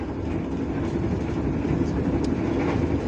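Steady rumble and rattle from inside a moving KTMB train in Malaysia, a continuous loud low roar with faint clicking from the rails throughout.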